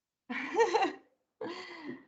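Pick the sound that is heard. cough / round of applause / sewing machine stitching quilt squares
cough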